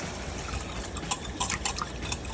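Water poured into a McCormick brown gravy powder mixture, a steady liquid wash with a few brief splashy bursts, close and moderately loud, no voices.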